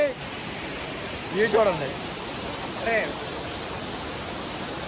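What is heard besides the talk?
Tirathgarh waterfall, rushing water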